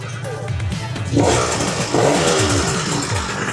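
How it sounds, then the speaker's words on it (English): A two-stroke scooter, converted to pre-mix with the oil pump removed, fires up after kick starting without choke and revs raggedly up close, the engine loud and dominant while someone talks over it. "Right, let's give it a few kicks. Fire right off."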